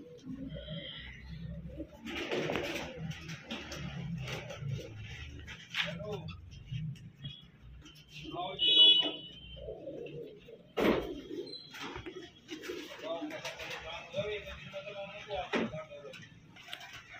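Punjabi Malwai pigeons coo softly in short, low bursts close by, mixed with handling noises while people talk throughout.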